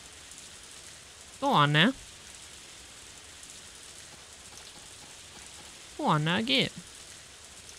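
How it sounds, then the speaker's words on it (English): Steady rain falls in the farming video game Story of Seasons: A Wonderful Life, a soft, even hiss running throughout while a person speaks two short phrases over it. "Sitting in the rain."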